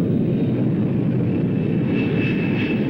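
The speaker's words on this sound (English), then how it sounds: "aircraft landing on wrong runway" A fixed-wing aircraft lands and goes around on a runway in a 1951 film, heard as a steady, loud engine drone that holds without a break.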